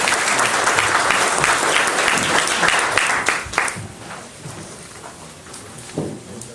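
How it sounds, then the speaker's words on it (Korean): Large audience at a disability sports policy workshop gives loud, sustained applause for three vice-presidents, a thick crackling wash that fades after a few seconds into scattered claps and room noise. "우리 여기 계시는 모든 분이 이 세 분께 나병 3인 부회장을 비롯한 세 분께 큰 박수 한번 드립시다."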